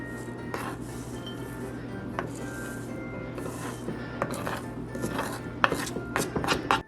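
A knife chops through blocks of chocolate on a board in a kitchen, a run of close, crisp, irregular cuts and scraping strokes that grow quicker and louder toward the end.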